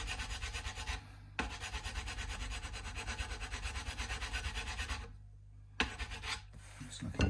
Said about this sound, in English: So what I'm now going to do is move to a smoother grit